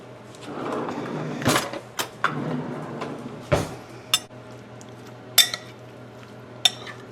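Chicken and cilantro being stirred in a pan for pineapple chicken, with scattered utensil scrapes and clinks against the pan over a low steady background, a few sharp knocks standing out.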